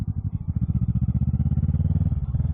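Motorcycle being ridden into a building, its engine idling close by in a steady rapid low thumping pulse, loud and alone with no talk.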